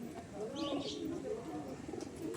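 Pet pigeons, Madrasi kabootar, coo in low, rolling, repeated calls close by, steady through the stretch, with a brief higher chirp mixed in partway.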